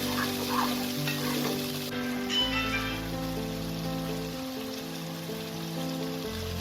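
Ground masala paste sautés in a pan for Bengali egg poach curry, a steady low sizzle running throughout beneath sustained tonal background sounds.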